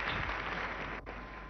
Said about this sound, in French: le public d'Albert Hall applaudit